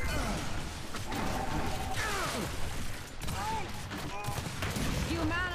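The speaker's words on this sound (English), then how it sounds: "Flashbang out!" Gears 5 firefight with a thrown flashbang, loud continuous bursts of gunfire and clanking game effects layered with pitched game voices and shouts, busy and dense throughout.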